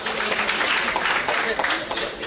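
A crowd applauds for the city of Kigali, with steady clapping that is fairly loud and continuous, mixed with voices in the background.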